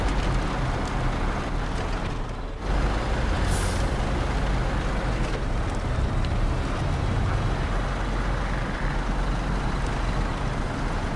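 A heavy off-road truck in the video game Expeditions: A MudRunner Game descends a steep slope, its engine a loud, constant broadband rumble with a brief dip partway through.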